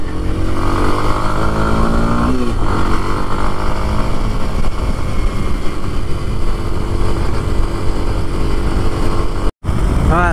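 Kawasaki KLX230 dirt bike on a forest trail in North Georgia, its engine droning loud and close with steady throttle and slight pitch shifts, cutting out briefly near the end.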